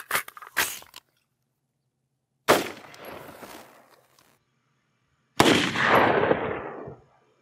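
A 16-inch AR-15 in 6.5mm Grendel, firing Hornady American Gunner 120-grain OTM rounds into ballistic gelatin at an outdoor range, lets off three loud, sharp shots a few seconds apart, each trailing off in a long echoing tail.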